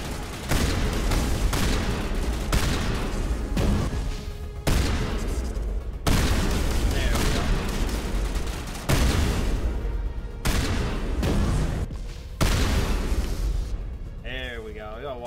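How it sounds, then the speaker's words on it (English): Rapid gunfire and heavy shots from a shooter video game, Mass Effect Legendary Edition on Xbox Series X, crack in dense, repeated bursts throughout, with loud impacts and a voice talking over the action. "I am being shot."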